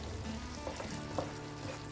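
Potatoes cooking in an edamame and soya nugget sabzi, a soft continuous sizzle and gentle bubbling with faint stirring knocks; no talking.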